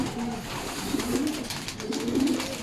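MacArthur pigeons, young birds and older banded ones, coo in low repeated murmurs over a steady background hum, with soft rustling throughout.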